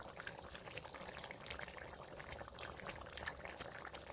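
A pot of mutton curry gravy with potatoes simmers on a stove, giving a soft, continuous bubbling hiss with tiny pops scattered through it, quiet and close, with no voices.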